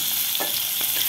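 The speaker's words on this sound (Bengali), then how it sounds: "মাছ ভাজতেছে।" Fish coated in turmeric, chili and salt fries in hot oil, a loud dense sizzle with a few brief stirring scrapes over about a second.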